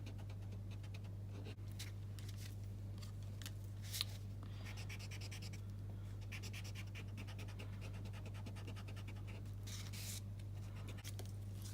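An eraser rubs out pencil marks on paper for a stamped card, a soft continuous scratchy scrubbing in short repeated strokes, close by and quiet over a steady low electrical hum, with no talking.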